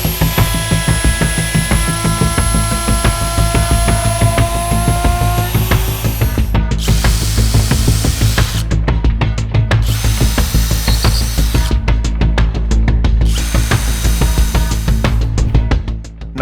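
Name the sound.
router copying the template shape onto board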